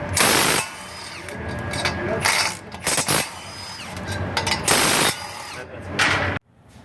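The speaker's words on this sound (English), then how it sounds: "Remove the bolts holding the flywheel or the flex plate." Flywheel or flex plate bolts come off a 7.3 Powerstroke diesel engine in bursts of ratcheting and rattling tool noise, close and loud, separated by short pauses, with a person speaking between them.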